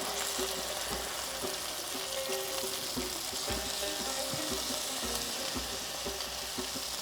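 Ingredients marinated in fish sauce, soy sauce, chili and tarragon fry in a hot pan for egg fried rice, giving a steady loud sizzle with rhythmic stirring and scraping throughout.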